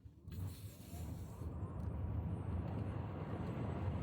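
A Tesla Model S Plaid launches under hard electric acceleration, heard from inside the cabin as a rising, swelling whoosh and whine that builds quickly and stays loud to the end.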